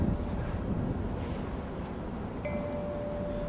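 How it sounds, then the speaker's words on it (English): Wind blowing during snowfall outdoors, a steady rushing roar buffeting the microphone close by, with no speech. "It's snowing, the wind is blowing."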